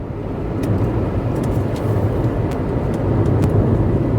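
A car cruising on the Lucknow Expressway, with a steady, loud road and engine roar that holds evenly throughout and carries no talk.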